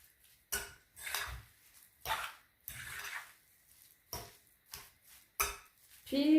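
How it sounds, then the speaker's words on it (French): Grated cheese being mixed into a potato mixture for croquettes, heard as a series of close, intermittent scraping and clinking bursts of a utensil against a bowl, with brief pauses between strokes. "Le fromage râpé. Je mélange bien."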